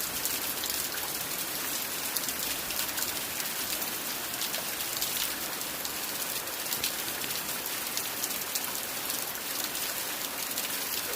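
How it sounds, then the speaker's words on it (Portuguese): Steady rain pouring down and pattering on surfaces, a dense even hiss lasting throughout with no voices, close and fairly loud. "Somzinho da chuva aí, né?"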